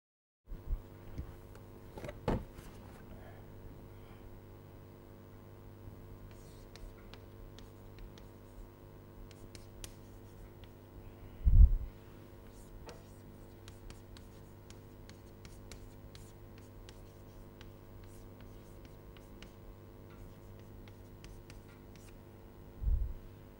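A pen writes out an equation during a lecture, with faint, steady scratching strokes over a quiet room hum and a few louder knocks or taps scattered through.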